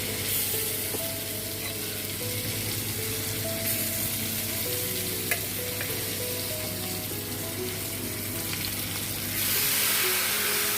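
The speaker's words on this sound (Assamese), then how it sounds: "পানী শুকাই গ'ল টেঙাটো দেখাৰ আগতে দি দিব লাগে তেলত" Elephant apple pieces frying in hot oil give a steady, fairly quiet sizzle, with faint clinks and a low background hum, growing slightly louder near the end.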